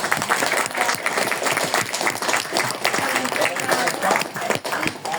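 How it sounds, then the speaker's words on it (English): Big round of applause from the audience closing a collectors' panel at a Transformers fan convention in Manchester, dense continuous clapping throughout, with a voice speaking over it. "Another big round of applause."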